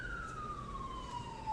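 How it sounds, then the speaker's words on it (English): A siren wails faintly in the distance, its pitch sliding steadily downward as it passes, heard alone over quiet background hum. "now I record and there's a siren."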